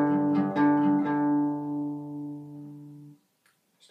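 Several quick strums of power chords on an acoustic guitar, followed by a low chord that rings out and slowly fades to silence.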